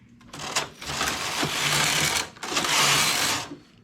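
Knitting machine carriage sliding across rows with tuck stitch engaged, two long mechanical rattling sweeps separated by a brief pause, close and loud.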